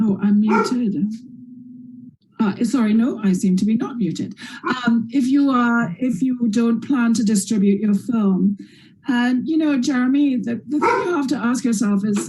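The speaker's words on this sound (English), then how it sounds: "I'm so sorry, that's my dog going bonkers." A dog barks repeatedly indoors, close by, underneath a person speaking on a video call.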